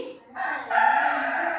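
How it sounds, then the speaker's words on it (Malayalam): A single close, loud rooster crow rising into a long sustained call, with a brief clucking note just before it. "ദീക്ക് പൂവൻ കോഴി"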